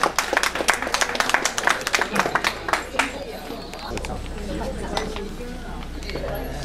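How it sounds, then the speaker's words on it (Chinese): An audience bursts into lively clapping to welcome elderly performers at a community stage show. The applause is dense for a few seconds, then thins into scattered claps and murmuring crowd noise. "各位掌声欢迎我们这些我们的长者"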